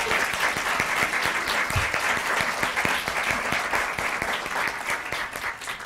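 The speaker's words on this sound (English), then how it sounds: "Let's give these ladies a very big round of applause." Sustained, dense applause from a large conference audience honouring the presenters at the 2015 VCCS New Horizons event, steady and loud for the whole stretch with no talk over it.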